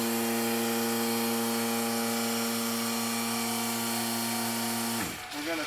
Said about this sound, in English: running a small gas vacuum pump